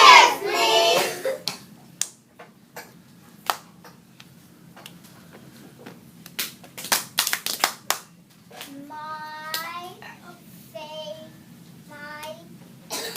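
Kindergarten class clapping in a classroom: a few sharp, separate claps, then a rapid cluster of group claps in the middle, with children's voices chiming in near the end.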